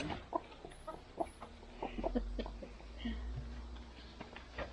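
Hens cluck in short, scattered bursts at close range, with a steady low rumble underneath and occasional soft rustling.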